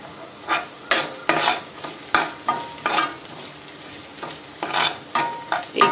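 Green chillies sizzling in a pan over a medium flame while being stirred for vegetable rava upma, with repeated close scraping strokes at an uneven rhythm over a steady frying hiss.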